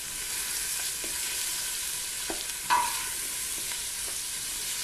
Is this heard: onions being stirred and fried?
yes